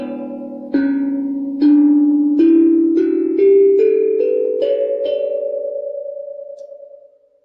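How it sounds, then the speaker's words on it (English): Several differently sized metal tone fields of a hang drum struck one after another, about ten ringing notes stepping up in pitch, each bright attack blending into a sustained shimmer that fades at the end. "As we hit the different sized pieces, it sings a different note."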